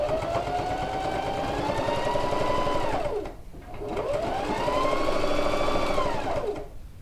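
A sewing machine stitches the side seam of a quilted coat in two sustained runs, its motor whine rising and falling with each, separated by a brief dip between them.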